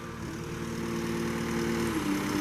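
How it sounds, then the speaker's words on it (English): A 2019 Gehl V420 skid steer loader's heavy diesel engine idles steadily nearby, a low droning hum with a faint whine that shifts slightly near the end. "Hear that engine runs so nice."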